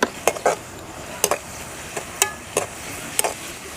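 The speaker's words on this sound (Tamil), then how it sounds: "வெங்காயம் நல்லா வதங்கிட்டுருக்கு" Onions sautéing in a pan with salt for Chicken Manchurian, a soft steady sizzle broken by about ten sharp scraping stirs of a spoon against the pan, close and fairly quiet, no talking.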